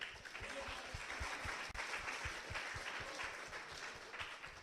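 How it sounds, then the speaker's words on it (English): Audience applause for hackathon winners at a closing ceremony, a steady dense wash of many hands clapping throughout, moderately distant in a large hall. "we can do a quick round of applause for all the winners"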